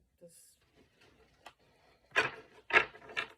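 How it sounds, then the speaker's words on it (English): Oracle cards being shuffled: soft rubbing and a few brisk papery riffles, quiet at first and then three louder shuffling bursts near the end, with faint speech around them. "do you really need to shuffle oracle cards?"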